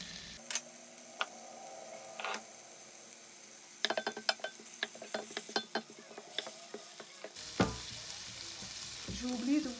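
Butter, half an onion and garlic start frying in a pan, a soft sizzle rising after ingredients drop in, with sharp clicks and taps of utensils against the pan.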